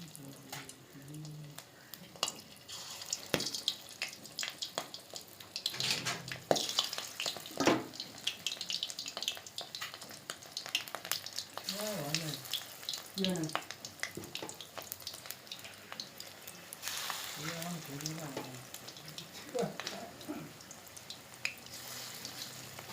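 Bhetki fish and fish roe fritters mixed with onion, chili, salt and turmeric sizzle and crackle in hot oil, with clattering utensils and intermittent bubbling bursts throughout.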